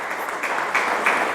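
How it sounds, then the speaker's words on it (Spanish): Church congregation clapping for the Lord at a Spanish-language service: a brief run of group claps in an even, pulsing rhythm, moderately loud and roomy. "denle un aplauso al Señor"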